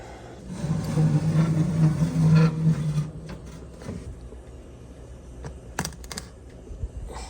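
Knuckles tap the baked crust of a Portuguese broa loaf, a few short hollow knocks after a low hum fades, fairly close in a quiet kitchen.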